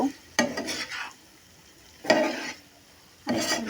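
Prawns sautéing in masala are stirred in a pan in three distinct bursts of scraping and sizzle, separated by quieter gaps of low frying hiss, fairly close and with no voices.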